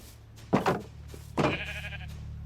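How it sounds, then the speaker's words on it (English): Sheep in the Minecraft video game bleat twice in short, close cries about a second apart over a low steady background hum. "We got our sheep penned up."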